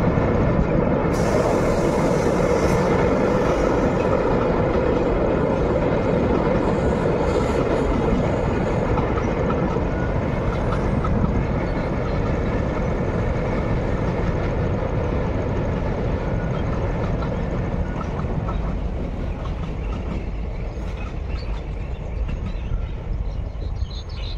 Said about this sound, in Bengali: শিয়ালদা লালগোলা প্যাসেঞ্জার দেখতে পাচ্ছেন যে ব্রিজের ওপর থেকে ধীরে ধীরে যাচ্ছে